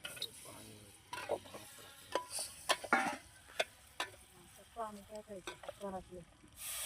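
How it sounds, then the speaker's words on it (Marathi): Farm-fresh eggs are dropped into hot masala in a pan for a village-style egg curry, giving soft sizzling with scraping and stirring, a few clinks of utensils, and faint voices in the background. "आता सोडायचे आपली अंडी मस्तपैकी मसाल्याच्या ह्याच्यात"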